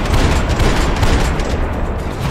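Dense, sustained gunfire from a Max Payne 3 shootout, a loud continuous fusillade of overlapping shots and booms filling the whole stretch with no pauses.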